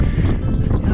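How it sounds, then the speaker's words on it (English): Gusty wind buffets the microphone on a high mountain ridge near a saddle, a loud low rumbling roar that fills the moment without pause. "Fairly windy up here."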